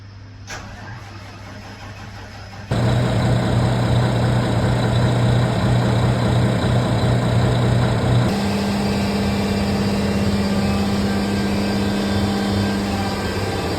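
A boat engine cranks and fires about three seconds in, then settles into a loud, steady idle that shifts pitch slightly partway through. It runs on alone for over ten seconds.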